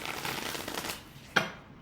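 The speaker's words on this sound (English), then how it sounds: "I'm just going to shuffle a couple times." Tarot cards being shuffled, a soft papery riffling through the first second, then a single sharp snap or tap near the end before quiet.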